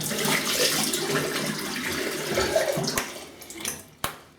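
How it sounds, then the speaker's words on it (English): Running water from a tap splashes steadily while someone rinses after a wet shave, a close, moderate wash of sound that thins out, with a few sharp splashes and a knock near the end. "Let's have a quick rinse"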